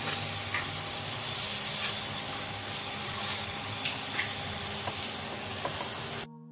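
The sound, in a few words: stirring soya chunk curry in a sizzling pan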